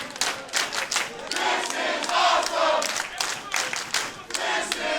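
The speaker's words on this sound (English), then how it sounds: "this crowd in Winston-Salem, they're showing their appreciation for this matchup" A wrestling crowd in Winston-Salem cheers and claps throughout, a dense, loud roar of voices and scattered applause swelling and dipping with no clear speech.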